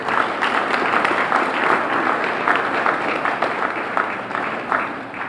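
Steady audience applause in a hall at a corporate charity showcase event, many hands clapping continuously at even volume for several seconds.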